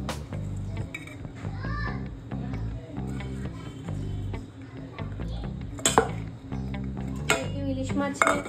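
Pabda fish curry cooking in a pan, with utensil clinks, stirring and faint sizzling heard under steady talk and children's voices nearby.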